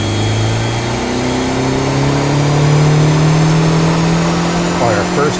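Car engine revving hard on a chassis dyno during a power pull, a loud, close, sustained rising drone that climbs steadily in pitch before easing off at the end.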